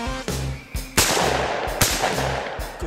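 Shotguns fire at a sporting clays range outdoors, giving several loud, sharp blasts spaced irregularly, each with a short decaying tail, and no voices are heard.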